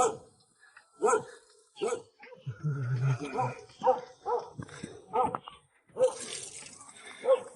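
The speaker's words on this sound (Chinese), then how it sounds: "我那儿养了一头狗，还好是拴起来的。" A dog, kept tied up at a remote cliffside rural home, gives a series of sharp barks and yips with some whimpering, loud and close, spaced in bursts over several seconds.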